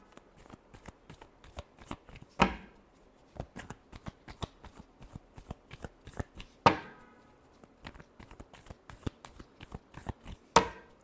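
Tarot cards are shuffled by hand in repeated soft riffling bursts, with three sharper slaps or snaps spaced across the stretch, close and fairly quiet, with no talking.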